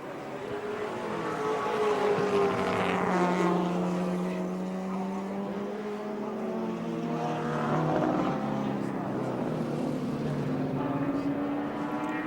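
Race car engines at the 1984 Australian Touring Car Championship round at Wanneroo, including a Mazda, rise and fall in pitch as cars scream past, loud and continuous beneath race commentary.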